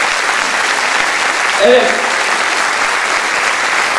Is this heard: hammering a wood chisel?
no